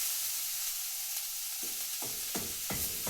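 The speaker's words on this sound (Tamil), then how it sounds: "இங்கே வந்து நம்ம வதக்கிற வெங்காயம் வந்து அடி பிடிக்கூடாது" Onions sautéing in a pan for a chicken gravy, a steady close sizzle with a few distinct scraping stir strokes toward the end, no talking.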